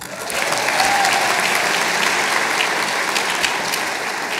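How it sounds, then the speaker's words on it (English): An audience at a graduation achievement celebration gives a sustained round of applause, a steady, dense roar of clapping that swells quickly and holds without speech. "Please give them another round of applause."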